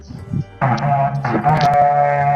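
In Minecraft Bedrock Edition, a horned goat gives two loud, drawn-out bleats close by, each a wavering, nasal cry following a brief low sound at the start.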